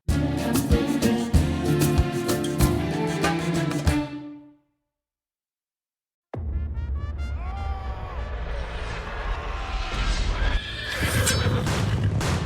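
Horses whinny loudly during a cavalry charge effect set over dramatic music and thudding hooves. A sudden two-second silence breaks the sound, which then returns with more neighing and a rising, chaotic rush.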